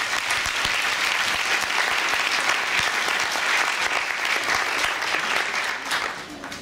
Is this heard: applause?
yes